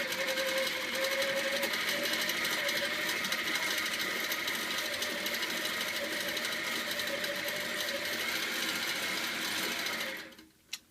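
A sewing machine couching yarn onto a quilt runs in a continuous, even whir with a fast mechanical rhythm for about ten seconds, then stops abruptly, followed by a single small click.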